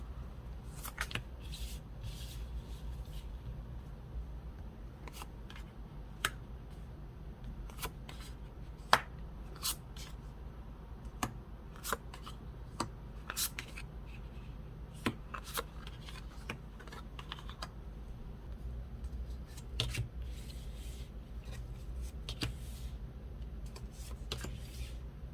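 Tarot cards shuffled and laid out on a table, with light papery flicks, taps and slides scattered irregularly over a quiet background, close by and without speech.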